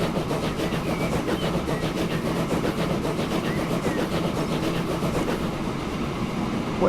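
A video game train rolls along the rails, giving a steady, continuous rumble with faint rhythmic clatter that stays even and close throughout.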